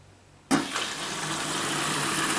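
A Bosch washing machine starts filling with water on its main wash: a sudden onset of steady rushing water and valve hiss that continues evenly after a quiet hum, with no talk.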